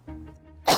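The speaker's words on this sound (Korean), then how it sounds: "요즘엔 시도 때도 없이 기침까지" A person gives one short, sharp cough at the end, after a few soft, low throat sounds.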